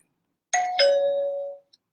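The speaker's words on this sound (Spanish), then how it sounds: "Sonó la campana." Two quick bell chimes ring out, a ding-dong pair that rings clearly and fades over about a second, alone in silence.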